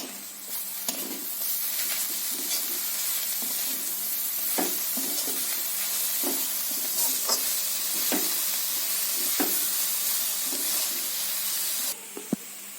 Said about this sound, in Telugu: కొత్తిమీర వేసి అడుగు మీద కలపాలి.